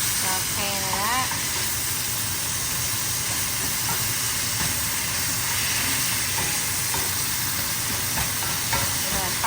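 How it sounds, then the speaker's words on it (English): Garlic sautés in a hot pan alongside steak in butter, giving a steady, dense sizzle and hiss that runs throughout, with a brief faint voice near the start. "Sauteing it up."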